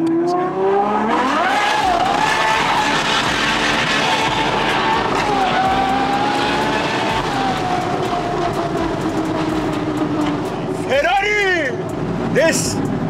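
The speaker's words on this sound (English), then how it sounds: "This is a real Ferrari, V12 Symphony." A Ferrari V12 drives by loud and close, its engine note rising smoothly through the revs, easing off, then swelling again, with a brief high whine near the end.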